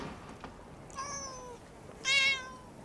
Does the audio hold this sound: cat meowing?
yes